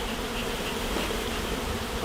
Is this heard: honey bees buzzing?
yes